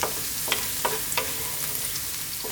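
Garlic sizzles gently in a pan, a soft steady fry near at hand with a few light stirring scrapes, and no one speaks.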